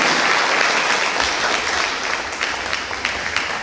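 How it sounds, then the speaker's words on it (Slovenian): Applause from a crowd, steady clapping that continues throughout and thins slightly toward the end. "mislim, da zaslužen aplavz"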